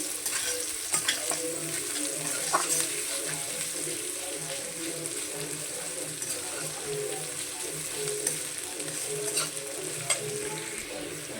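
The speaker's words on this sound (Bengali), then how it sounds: "আমি এর মধ্যে দিয়ে দিচ্ছি পেঁয়াজ কুচি। পেঁয়াজগুলো কেটে রেখেছিলাম সেগুলো দিয়ে দিচ্ছি, একটু লাড়াচাড়া করে বেটে নেব।" Chopped onions sizzle in oil in a pan while being stirred for a fish curry, a moderate continuous crackle with scraping and light utensil knocks, no talk.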